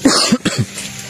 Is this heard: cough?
yes